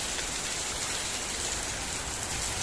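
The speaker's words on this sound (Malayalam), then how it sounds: "നല്ല മഴയാണ് അങ്ങനെ സംഭവം." Heavy rain pours down outdoors in a steady, dense hiss that holds evenly from start to finish, with no voices over it.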